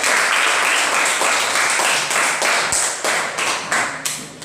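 A roomful of people applauds a group of students after their class presentation, a dense, steady burst of clapping that holds for several seconds before gradually thinning out.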